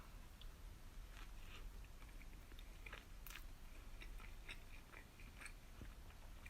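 Close, quiet chewing and biting of a home-cooked dinner during a taste test, with soft crunchy bites and mouth sounds scattered over several seconds; no talking.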